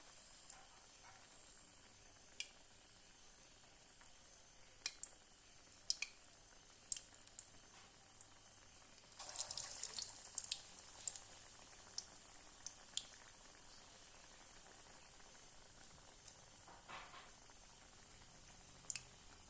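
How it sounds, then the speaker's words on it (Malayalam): Shaped dough snacks made with jackfruit frying in a pan of hot boiling oil, a faint steady bubbling hiss broken by scattered sharp pops and crackles, with a louder burst of sizzling midway, no talk. "ഈ തിളച്ച എണ്ണയിലേക്ക് ഇട്ട് കൊടുക്കാം"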